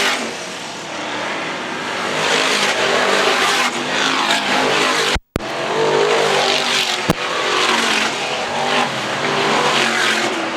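Stock cars race around Arlington Stadium, a loud continuous roar of engines with revving and passing cars and a brief dropout midway; a commentator's voice is faint beneath.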